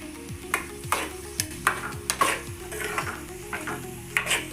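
An egg fry in a pan is stirred briskly, with sharp repeated scrapes and clacks of the utensil against the pan in an uneven rhythm over a soft, steady sizzle, and no voices.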